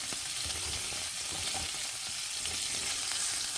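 Ramen noodles fry in a pan for lo mein, giving a steady, dense sizzle with small crackles and occasional stirring, close and loud with no talking.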